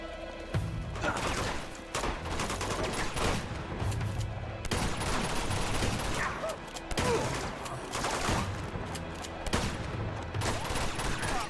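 Sustained heavy gunfire in Uncharted 2: Among Thieves, dense rapid bursts and overlapping shots with crashes, loud and continuous throughout with brief gaps, a few faint voices mixed underneath.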